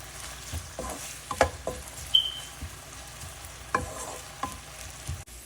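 Sago upma with onion, potato and green chillies being stirred in a pan: scattered spoon scrapes and soft clinks over a faint background sizzle, close and moderately quiet, with no talking.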